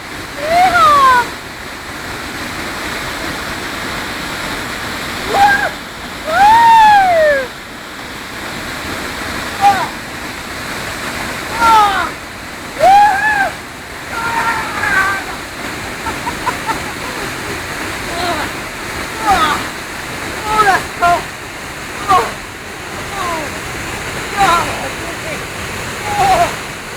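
A cold waterfall splashes and roars steadily up close during a swim, a constant wash of falling water with people's yelps and talk breaking over it throughout.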